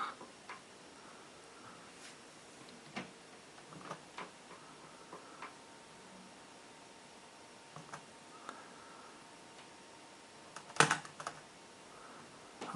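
Light typing on a laptop computer keyboard, faint and sparse, with scattered single key taps and a brief quick cluster of clicks near the end, no talk.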